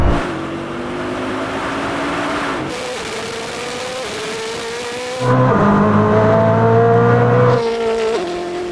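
A Koenigsegg Jesko and a Bugatti Chiron Super Sport accelerate hard in a drag race, engines climbing through loud, rising gear-by-gear pulls with a sharp jump in volume partway through.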